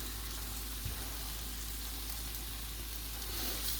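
Steady, even sizzle of diced onion, poblano and jalapeno frying in a pan, with an unbroken hiss and no voices.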